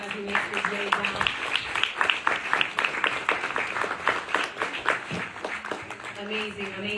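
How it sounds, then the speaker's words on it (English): Steady applause from a keynote audience at an Oxford University Africa conference rolls on as the governor leaves the stage, dense clapping lasting several seconds with voices over it. "another round of applause for the governor as he makes his way down"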